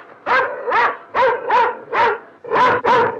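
A dog barks six times in quick succession, loud and close, in short evenly spaced woofs with brief gaps, no talking over it.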